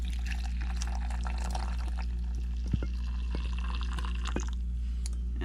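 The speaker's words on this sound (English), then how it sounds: "Pour a little coffee in." Coffee is poured into a cup, a faint trickle with a few small clinks over a steady low hum.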